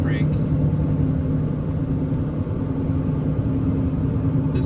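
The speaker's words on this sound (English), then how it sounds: "I don't know if you can hear the exhaust brake." A truck's exhaust brake gives a steady, low engine rumble that drones evenly throughout, heard from inside the cab.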